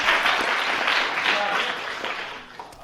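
Audience at a climate extremes workshop applauds a poster prize winner, a dense burst of clapping that fades toward the end.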